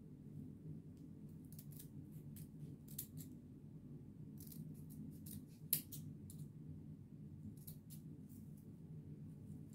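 Scissors snip through pink and white striped ribbon for a bow in a few quiet, crisp cuts spread across a faint background hum, with one sharper snip standing out.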